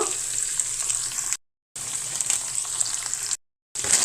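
Ivy gourd pieces, tomatoes and onion fry in a pan with turmeric, a steady close hiss of sizzling that cuts out briefly twice.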